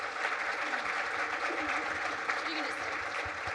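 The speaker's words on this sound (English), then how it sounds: "Let's all give them a wonderful round of applause." An audience applauds a panel at an economic outlook event, a steady wash of clapping with a faint voice beneath.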